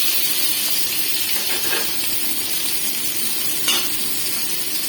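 Tomato and coconut paste dropped into hot oil in a kadai fries with a steady, close hissing sizzle that holds evenly throughout, with a couple of brief louder spits.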